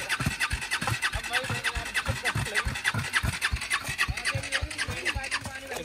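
A Bajaj Dominar 400 motorcycle engine with a seized engine sputters and chugs in rapid rhythmic pulses as someone tries to start it after off-roading, with voices nearby.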